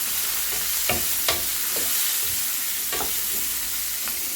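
Garlic, chopped green chilies and curry leaves sautéing in hot oil, a steady close sizzle broken by several sharp stirring scrapes of a spoon in the pan, no voices.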